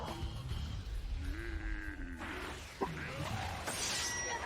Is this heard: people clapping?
no